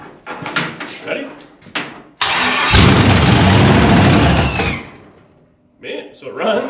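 A 1957 Chevy fitted with an LS engine and open exhaust fires up for the first time, cranking abruptly into a loud, sustained roar for a few seconds before cutting off, with people talking just before and after.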